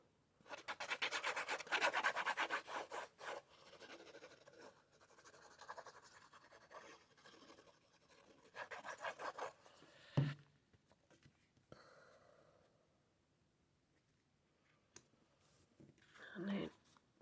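Card paper being folded into a tent fold gives dry rustling and rubbing, loudest in the first few seconds, then softer scrapes and a sharp crease-like tap near the end.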